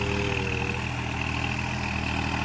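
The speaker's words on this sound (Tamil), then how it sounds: "நம்ம யூஸ் பண்ணுற டிராக்டர் வந்து நியூ ஹாலண்ட் கம்பெனி. நியூ ஹாலண்டில் 5510 மாடலுங்க. 4 வீல் டிரைவ்." A New Holland 5510 four-wheel-drive tractor engine runs at a steady idle, a close, constant diesel rumble with a faint high whine and no talking.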